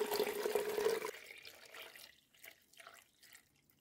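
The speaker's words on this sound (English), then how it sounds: "pour it into the cell." Potassium chloride solution, mixed from a food-grade salt substitute and water, pours into a homemade chlorate electrolysis cell in a garage. A loud, close splashing rush lasts about a second, then drops to faint drips and trickles.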